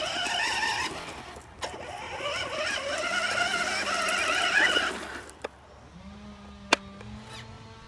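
A small RC truck's electric motor whines steadily at close range for about five seconds, then cuts off and leaves quieter hum and a couple of sharp clicks.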